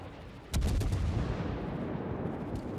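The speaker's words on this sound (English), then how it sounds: "So we're firing at the other Bismarck." Naval gunfire from a French tier 8 cruiser, the Charles Martel, in World of Warships at an enemy Bismarck: a sudden heavy salvo boom followed by a long rolling rumble that slowly fades, loud and close.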